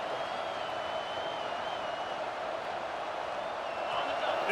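A stadium crowd roars in an American football video game as a constant, even wash of noise that swells slightly near the end.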